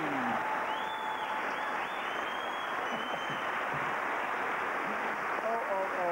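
Studio audience applause on a 1994 Flemish TV quiz show: a steady, dense wash of clapping that holds evenly for about six seconds, with faint tonal studio sounds drifting above it and no talk over it.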